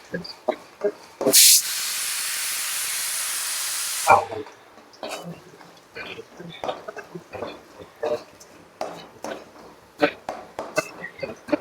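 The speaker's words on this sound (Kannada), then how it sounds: "ಸೊ ಈಗ ಆನಿಯನ್ ಸ್ವಲ್ಪ ಗೋಲ್ಡನ್ ಕಲರ್ ಬರೋವರೆಗೂ ಫ್ರೈ ಮಾಡ್ಕೊಳ್ಳಿ." Onions, ginger and garlic fry in a pan for aloo samosa, a sudden loud hiss of sizzling oil that holds steady for a few seconds and then drops away into light scattered clinks and stirring under a speaking voice.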